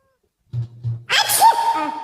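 A single sneeze bursts out loud and close, preceded by two short low voiced sounds as a person builds up to it, in a game show setting.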